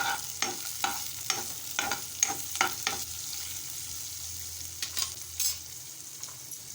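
Potato mixture with chopped onion stirred in a hot pan, soft sizzle beneath a run of quick scraping spatula strokes, a quiet pause, then a few more stirs; no voices.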